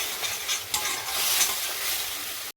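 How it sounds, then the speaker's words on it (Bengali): Spice masala frying in a hot pan with a steady, loud sizzle while a utensil stirs it, giving repeated scraping strokes close up. "দেখো মশলাটা ভেজে নিচ্ছি।"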